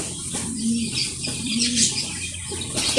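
A female Indian Lahore-coloured pigeon coos softly in a close, low throaty burble, with a brief flutter of wings and faint chirps from other birds in a busy loft.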